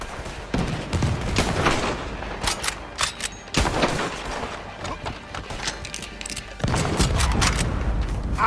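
Gunfire and cannon shots crack repeatedly during a battle in Red Dead Redemption 2, an irregular string of close, sharp reports with a few heavier booms scattered across the stretch.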